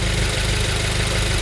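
A 2015 Subaru WRX, freshly fitted with a front-mount intercooler and just cleaned valves, idles after its first startup with a steady, loud, close engine rumble and no talking.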